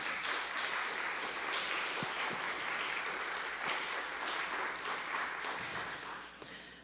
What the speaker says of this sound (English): Can we give Francie a big round of applause?